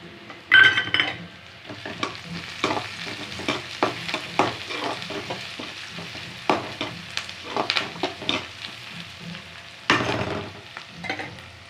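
Curry leaves fry in hot oil in a pan for karamani kulambu, a steady sizzle under repeated spoon scrapes and stirring knocks, with occasional sharp metallic clinks against the pan.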